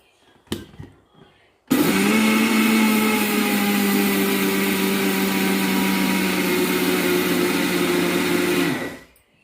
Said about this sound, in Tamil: இப்போ ஜீனியை ஜாரில் போட்டு அரைச்சிக்கலாம்.